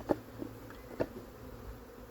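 A low buzzing hum of a wild swarm of bees being installed into a new hive fills the background, with a few louder buzzes as insects pass close by.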